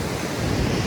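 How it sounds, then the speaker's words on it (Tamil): Ocean waves surge and crash onto the shore in stormy weather near an underrated Australian village, a dense continuous roar of surf mixed with wind buffeting the microphone, loud and close throughout. "பாருங்க அலைய பாருங்க, அலைய பாருங்க."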